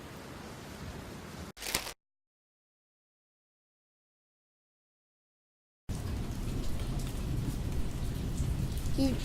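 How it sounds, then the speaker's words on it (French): Heavy rain and thunderstorm noise as a sound effect, a steady broadband wash of rainfall with a sharp crack near two seconds, then a few seconds of silence before the downpour resumes. "un jour, le ciel devint tout sombre et un orage éclata. Une pluie violente se mit à tomber"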